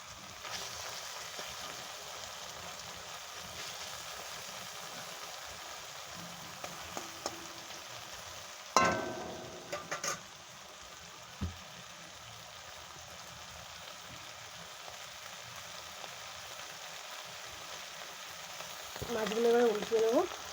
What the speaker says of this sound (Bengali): মাছের টক করবো, যে হালকা করে ভেজে নেবো